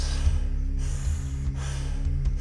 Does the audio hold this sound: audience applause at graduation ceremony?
no